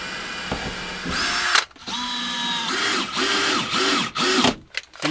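A power drill drives screws through three stacked layers of wood while building a budget camper van: several whining bursts rise and fall in pitch, separated by short pauses and a few clicks, close and loud.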